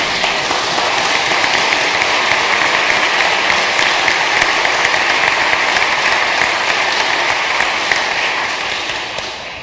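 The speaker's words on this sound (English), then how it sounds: "You are applauding yourself because you did it" Loud, sustained applause from a large church congregation at a pastor's 40th ministry anniversary, dense and continuous, tapering slightly at the end.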